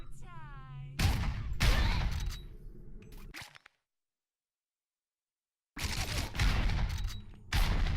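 Gunshots and gunfire bursts in the video game Wasted, loud and close, breaking off into silence before another burst resumes.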